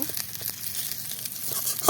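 Fish pieces go into a pan of frying garlic, giving a brief, steady crackle of oil. A few clinks of utensils sound close by.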